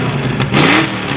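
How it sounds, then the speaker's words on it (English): A 1968 Ford Mustang Fastback with a swapped-in Coyote engine and a Pypes Performance exhaust gives one short, loud, close rev that swells and falls within about a second, with no voices. "This is one of the best places to do nice exhaust revs."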